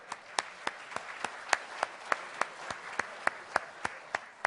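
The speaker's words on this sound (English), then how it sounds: "let's give a round of applause for that." A small audience at a talk gives a sparse round of applause for a national basketball title, with individual sharp claps ringing out in a steady rhythm, fairly close and fairly quiet.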